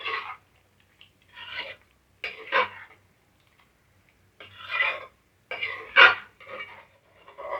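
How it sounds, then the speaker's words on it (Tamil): Kadai chicken is stirred in a metal kadai, producing several separate bursts of utensil scraping and clanking against the pan, close and fairly loud, with quiet pauses between strokes. "இதையும் நல்லா மிக்ஸ் பண்ணி விட்டுக்கணும்."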